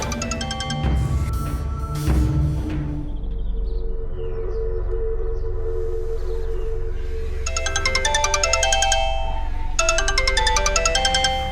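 A mobile phone ringtone plays loudly and close for a call from an unknown number, a repeating electronic melody that pauses briefly in the middle before resuming, with no talking.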